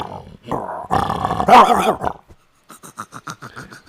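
A person imitates a dog with growling, barking sounds, then a rapid series of short panting huffs, close and loud.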